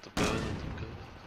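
A single loud, booming gunshot in Call of Duty: Modern Warfare bursts in after a brief quiet moment, then rolls on as a sustained rumbling echo that slowly fades.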